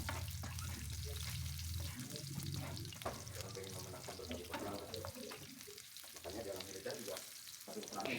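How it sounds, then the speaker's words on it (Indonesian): Garlic frying in a little hot oil in a home kitchen, a steady close sizzle with stirring clatter and some running water, continuous throughout. "panaskan sedikit minyak, masukkan terlebih dahulu bawang putihnya. Bawang putihnya kita goreng sampai warnanya kuning kecoklatan"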